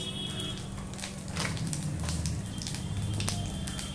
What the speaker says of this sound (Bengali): এবার আমি একটু জিরে দিয়ে দিলাম